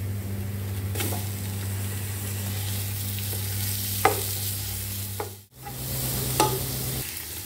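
Minced meat frying in a pan with onion and garlic gives a steady close sizzle, with a few sharp scrapes of a spoon stirring through it and a brief pause near the end.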